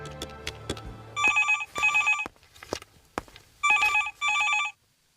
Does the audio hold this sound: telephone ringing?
yes